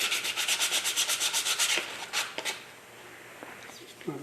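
Hand sanding the wood end grain of a picture holder: a quick run of rhythmic rubbing strokes, close and fairly soft, then a few scattered scrapes and light handling noises.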